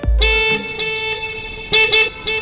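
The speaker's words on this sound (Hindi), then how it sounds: "इतनी ट्रैफिक में तुम्हें जोर जोर से हॉर्न बजाने की क्या जरूरत है?" A car horn blares loudly in a traffic jam, a long sustained honk followed by several shorter blasts close by.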